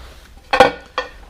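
A metal turbo inlet manifold for a BMW E36 VR5 build being handled, giving two short clanking knocks, the first louder and ringing briefly, in an otherwise quiet space.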